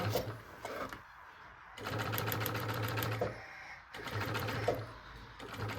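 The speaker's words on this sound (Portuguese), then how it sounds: "E vem costurando." A sewing machine stitches a backpack seam in bursts, running steadily for a couple of seconds, pausing, then starting again, close and fairly loud.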